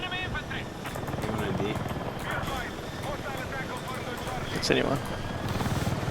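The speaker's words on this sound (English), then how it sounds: "The helicopter's gonna be up in like what?" An attack helicopter in the video game Battlefield 6 thrums with a steady, pulsing rotor beat under continuous player talk over a busy Manhattan battle.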